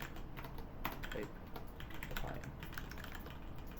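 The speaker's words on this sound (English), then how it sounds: "sorry, typing and talking" Rapid clicking keystrokes on a computer keyboard tap steadily and close, an uneven continuous patter with no pauses and no speech.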